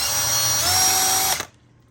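A power drill bores into a lowrider bicycle part in a workshop, a loud whining run of about a second and a half that cuts off abruptly into near silence.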